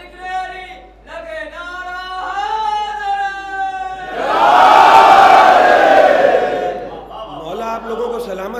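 A majlis audience chants religious slogans together, a loud, dense burst of massed voices rising after a cleric's amplified speech and fading back into his talk.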